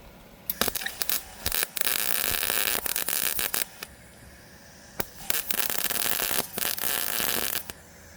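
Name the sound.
welding a patch, metal burning through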